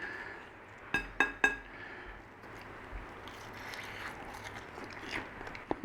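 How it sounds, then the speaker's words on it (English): Three quick, crisp crunches in close succession as someone bites into crispy roast potatoes, followed by quieter chewing. "Crunchy, crunchy, crunchy outside."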